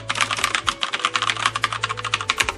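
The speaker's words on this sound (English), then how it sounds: "definitely the clack, clack, clack that I've come to associate with brown switches" Fast typing on a keyboard with brown switches, a dense run of close, clacky keystrokes in an irregular but steady rhythm, with no talk over it.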